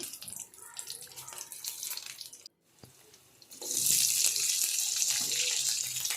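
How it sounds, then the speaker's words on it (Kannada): Chopped garlic and onion fry in a pan over a medium flame: soft clatter and stirring first, a brief lull, then a loud, steady sizzling hiss that fills the rest. "ಈ ಈರುಳ್ಳಿ ಮತ್ತು ಬೆಳ್ಳುಳ್ಳಿ ಎಲ್ಲ ಚೆನ್ನಾಗಿ ಫ್ರೈ ಆಗಬೇಕು"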